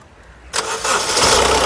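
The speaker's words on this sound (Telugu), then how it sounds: "సింగిల్ సెల్ఫ్లో కార్ స్టార్ట్ అవుతుందండి ఎటువంటి స్టార్టింగ్ ట్రబుల్ అయితే లేదు" A 2017 Honda City V car engine fires up on a single self-start: a brief starter crank, then the engine catches and settles into a loud, steady idle, with no voices.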